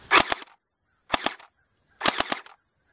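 A P90 water gel blaster fires three separate bursts, each a short rapid rattle of shots, loud and close, with near-silent gaps between them and no talking.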